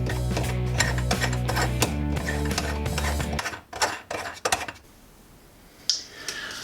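Metal basin tap being tightened from underneath during a bathroom refresh, giving a close run of ratcheting mechanical clicks and clatter. The clicking stops halfway through, leaving quieter scattered knocks.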